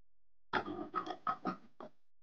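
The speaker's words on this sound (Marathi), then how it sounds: "म्हणजे डुक्कर." Cartoon pig sound effect in a farm animals lesson: a quick run of four or five short grunting oinks, close and clear, followed by a softer final grunt, with no talk.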